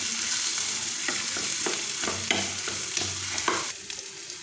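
Potatoes frying in a pan for aloo chop give a steady broadband sizzle, with a utensil scraping and stirring several times at a loose, uneven rhythm, close and moderately loud, with no voices.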